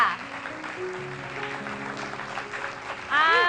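An audience at an event applauds in a steady wash of clapping at moderate volume, and a voice breaks in loudly over it near the end.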